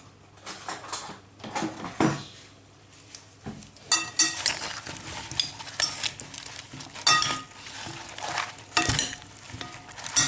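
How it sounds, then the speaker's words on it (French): Grilled meat being tossed into a salad in a bowl, with repeated stirring scrapes and clinks of utensils against the bowl, close and fairly busy throughout with no talking. "On verse tout sur la salade. Après, on mélange."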